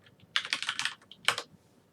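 Quick bursts of typing on a keyboard while entering a web address, two clustered runs of close, crisp clicks with a short pause between, no talk.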